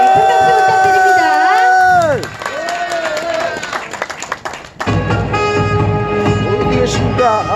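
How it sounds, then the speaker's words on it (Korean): Crowd at a political talk event cheers and claps for a speaker's entrance, loud whoops and shouts over clapping, with a brief dip in the middle before the cheering and applause surge back up. "큰 박수 부탁드립니다"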